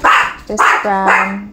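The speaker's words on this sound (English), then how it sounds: "Pardon the dog." Dog barking close by in a home kitchen, a few short loud barks and yips mixed with a person talking.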